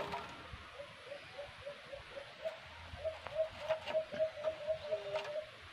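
A caged bird gives a fast run of repeated, evenly spaced calls that grow louder and quicker toward the end, heard alone against quiet background noise.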